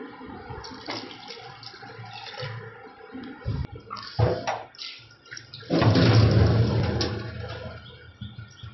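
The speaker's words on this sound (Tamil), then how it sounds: "போதுமான அளவு நம்ம தண்ணி ஊற்றிக்கணும்." Water poured into a pressure cooker holding mutton and salt for a curry, a steady splashing rush that builds and grows loudest toward the end, heard alone.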